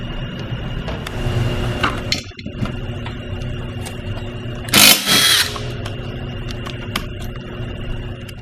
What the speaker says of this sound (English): Now I'll show you how to properly remove the underbelly hex pin with the impact drill driver.